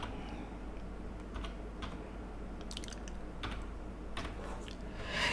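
Keys tapped on a computer keyboard while entering a search into a stock screener, sparse irregular clicks over a steady low hum, quiet and close.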